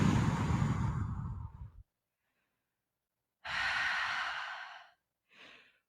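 Deep yoga breaths during a power yoga class: one long, loud exhale, a pause, then a second long breath and a shorter, softer one, close and airy with no talking.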